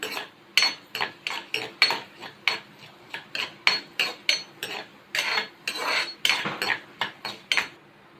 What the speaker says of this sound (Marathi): मी एक चमचा धने घालत आहे अख्खे धने आहेत ते हलके भाजून घेणार आहे